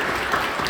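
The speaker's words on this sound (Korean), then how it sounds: "우리 사랑하고 격려하며 박수해 주시죠." A church congregation applauds in a brief, dense burst of clapping that fills the room evenly from start to end.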